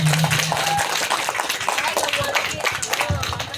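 An audience of women at a Maulid gathering claps along in a busy hall, with uneven, crowded hand claps mixed with voices and background chatter.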